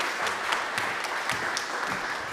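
Moderate applause from an audience at a research-to-policy dialogue welcoming a speaker, a soft, even wash of clapping with a few sharper claps standing out.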